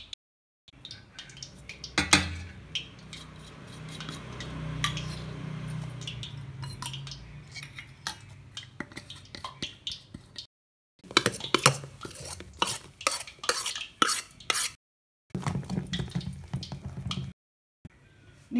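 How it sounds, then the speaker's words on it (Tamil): A spoon stirs vellai appam batter mixed with curry leaves and green chilli in a bowl, giving repeated close wet scrapes and clinks in bursts, with brief silent pauses between. "இப்போ கலந்துக்கிறேன், எல்லாத்தையும் கலந்துக்கிறேன்."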